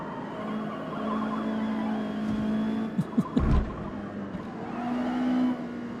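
A race car engine in a Forza multiplayer race hums and revs at a steady pitch, then rises in a short run of quick shifts and bursts before settling back into a sustained drone, moderately loud and alone.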